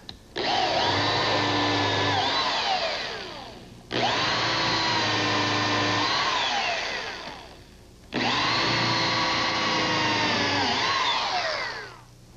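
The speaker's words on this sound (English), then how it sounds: "Now a pilot hole and countersink." A power drill bores a pilot hole and countersink in wood, running in three separate loud bursts of high whirring, each about three seconds long and winding down before a short pause.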